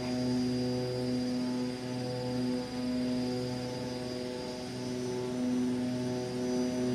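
A Royal Nepal Airlines Twin Otter in flight, heard from inside as a steady, droning turboprop hum with strong tonal engine and propeller harmonics, unbroken and without voices.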